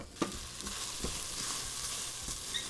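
Onion, celery and carrot stir-fry without oil in a pot over medium-high heat for clam chowder, giving a steady soft sizzle broken by occasional scrapes and taps of stirring.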